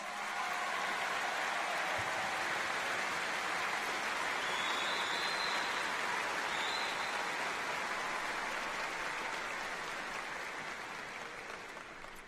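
A large audience applauds at a university spring commencement ceremony, a broad continuous wash of clapping that holds steady and slowly fades toward the end, with no talking over it.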